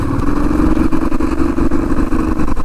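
A group of bikers' motorcycles rumbles steadily nearby on a road toward Changey Falls, a dense, continuous mid-pitched engine drone with slight revving swells throughout.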